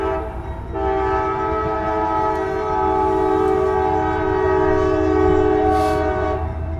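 A passing train sounds its horn in a long, loud, sustained blast over the low rumble of the rail cars, close by and continuing throughout without talk.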